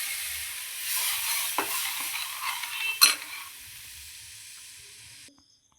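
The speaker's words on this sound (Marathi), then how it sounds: "त्यानंतर आपण बेसन आणि जे दही आहे मिक्सरमधून बारीक करून घेतले वाटून ते टाकू" A blended besan and curd mixture goes into a hot pan for kadhi, giving a soft sizzle and hiss with a couple of sharp stirring scrapes, fading until it stops abruptly.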